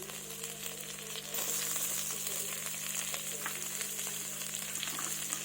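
Chopped onions drop into a wok of hot oil where fish was just fried, and a steady, bright sizzle swells after a second and keeps crackling evenly, close by.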